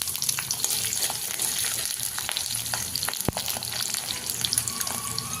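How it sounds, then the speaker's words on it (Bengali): Chopped onions fry in oil in a pan with bay leaf, cumin, cinnamon, cloves and cardamom, a dense, crackling sizzle running steadily close by, dotted with sharp pops and one loud snap midway. "পেঁয়াজটাকে ব্রাউন কালার আসা অবধি ফ্রাই করতে হবে।"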